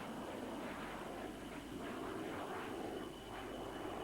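FA-18 jet at the Australian International Airshow, flying nose-high at slow speed: a steady, broad roar of jet engine noise that holds constant and loud throughout, with no voices.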